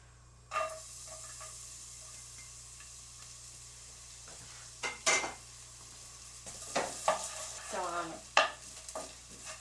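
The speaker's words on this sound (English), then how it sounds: "Now I'm going to drop some, well, a lot of garlic in there because I like garlic" Garlic sizzles softly in an oiled pan as a utensil stirs and scrapes it, a quiet steady hiss broken by a few scattered clinks and scraping strokes, growing busier toward the end.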